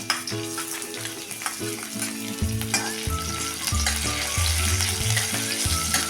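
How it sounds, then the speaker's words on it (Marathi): Crushed green chillies drop into hot oil on a low flame and sizzle loudly close by, crackling steadily with utensil knocks and some tonal background hum, no talking. "आता तेल तापले पहिल्यांदा आपण ही खेचलेली मिरची त्यामध्ये टाकूया"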